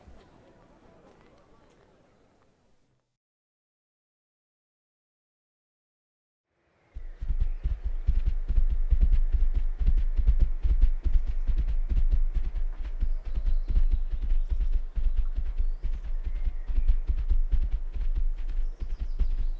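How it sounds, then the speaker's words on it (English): Horse hooves clip-clop in a steady walking rhythm, close and continuous, starting after a stretch of silence that follows some quiet sound. "The horses are getting tired."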